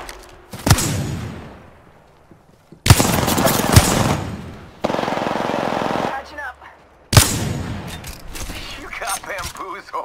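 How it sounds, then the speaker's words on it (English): Gunfire in the Apex Legends video game: loud, close bursts of rapid shots that start sharply and trail off, one stretch held steadily for over a second, with brief quieter gaps between volleys and a voice faintly underneath. "Opening fire."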